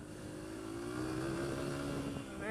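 A Honda CRF150F dirt bike is ridden, its engine droning close by with a rising and falling pitch as the throttle shifts, climbing into a sharper rev right at the end.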